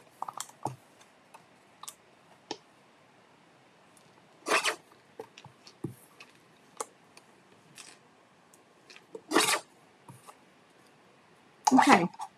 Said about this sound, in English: I'm going to trim this a little bit more in this direction.